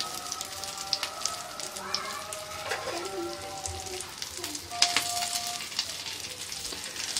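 Potato aloo tikki patties frying in oil in a pan, a steady crackling sizzle with small pops throughout, fairly close and moderate in level.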